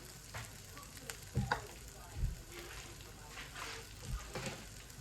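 Onion frying in oil in a pan, a steady soft sizzle with a few louder stirring bumps and clatters, fairly faint, with some quiet talk at points.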